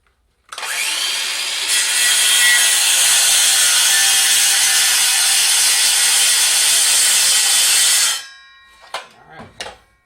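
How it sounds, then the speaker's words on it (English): A DeWalt circular saw rips through wood on a homemade crosscut sled, one loud sustained whine of about eight seconds that stops abruptly, followed by a few clunks and rattles as the saw is lifted and set down. "I'll do my cut"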